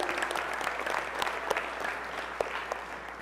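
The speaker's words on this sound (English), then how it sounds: "Yeah, give her a round of applause." Audience applause at a community college commencement ceremony, a large crowd clapping steadily with a few sharper individual claps standing out, filling a big space.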